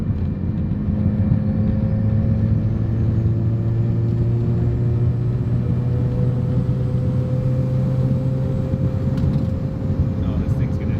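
A restored Mazda FC RX-7 street car cruises at low RPM, a steady close engine drone with a slowly rising hum and road rumble throughout.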